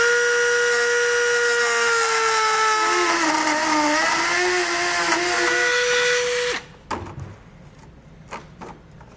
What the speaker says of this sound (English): I'll just use my Dremel tool to get that material removed